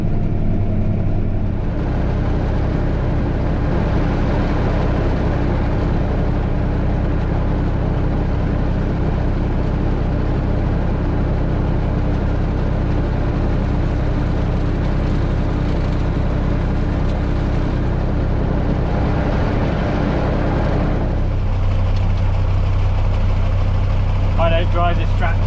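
A Massey Ferguson tractor used for spraying winter barley runs nearby with a loud, steady low engine drone that holds constant throughout, with a slight shift in tone toward the end.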